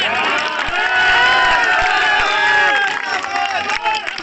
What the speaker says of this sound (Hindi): ताली तो इस बात पे नहीं बजनी चाहिए